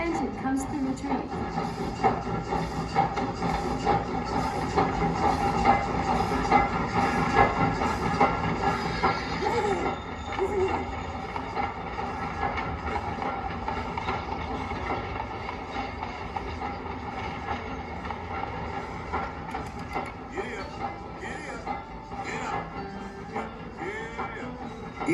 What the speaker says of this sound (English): Look at the train. Watch how the engine comes through the train.